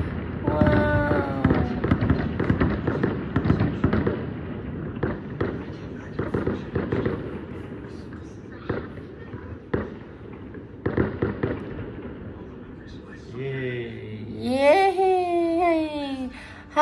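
Fireworks go off outdoors during a first wedding anniversary celebration, popping and booming in a steady series of sharp bursts. Excited voices exclaim between and over the blasts, and a drawn-out sliding whistle rises near the end.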